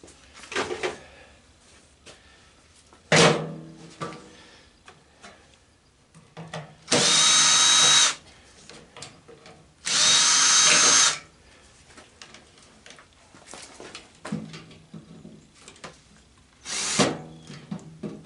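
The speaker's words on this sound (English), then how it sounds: "so just pop these screws out there and pop your fan off" A power drill backs screws out of a microwave's fan housing while the appliance is being scrapped, in two loud sustained whirring bursts of about a second each, separated by scattered clatter and handling knocks.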